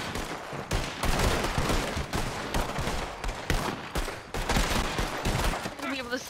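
Rapid, near-continuous gunshots at shooting gallery targets in Red Dead, dense cracks and echoes filling the stretch with barely a pause.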